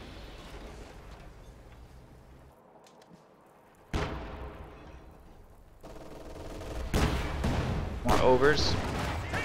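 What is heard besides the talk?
machine gun fire in a video game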